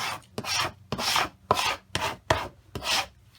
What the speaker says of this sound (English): this is just my scraper, and it scrapes right off